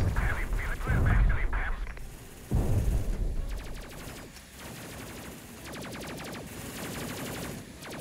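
Enemy gunfire in the sci-fi video game Space Crew, with loud bursts and rapid repeated shots crackling over a dense, steady game soundscape.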